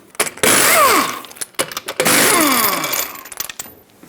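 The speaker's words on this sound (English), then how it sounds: "Use a 22mm socket and remove all 5 of your lug nuts and then pull the wheel off." A power impact tool spins off the lug nuts of a 2010-2017 Chevrolet Equinox rear wheel with a 22mm socket, giving two loud whirring bursts with falling pitch sweeps and short gaps between them.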